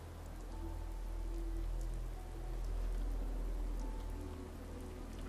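Rain falls steadily outdoors in Fallout 4, a dense, even patter on surfaces under a low, rumbling backdrop, heard without any talking.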